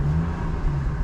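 A GMC truck engine idles and revs lightly, a steady low rumble heard up close with no hard acceleration.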